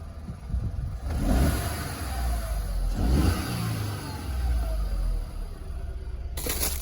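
A warmed-up VW Polo 9n engine running close by under the open bonnet, a steady mid-pitched hum that swells in two brief revs.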